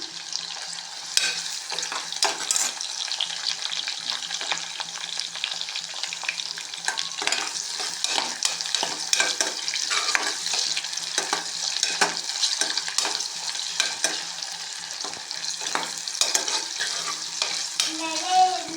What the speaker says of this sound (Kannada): ಹಸಿಮೆಣಸಿನ್ಕಾಯಿ ಹಾಕ್ತಿದ್ದೀನಿ. ನೀಟಾಗಿ ಫ್ರೈ ಆಗುತ್ತದೆ. ಈರುಳ್ಳಿ ಹಾಕ್ತಾಯಿದ್ದೀನಿ.